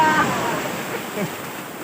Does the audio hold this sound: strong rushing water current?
yes